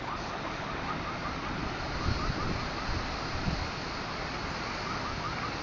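Hurricane wind roars steadily across a flooded parking lot, a continuous broad rush with a few gustier surges and no voices.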